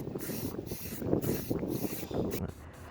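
Short hissing bursts from a spray can of primer, repeated at a steady pace outdoors, blown about by gusty wind against the microphone.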